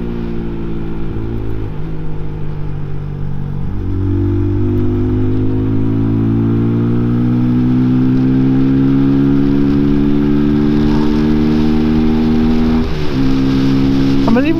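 A Peugeot PM-01 motorcycle engine climbs steadily through the revs at road speed, a loud, close, rising drone with a few brief dips where it shifts gear, continuous and alone for the whole stretch.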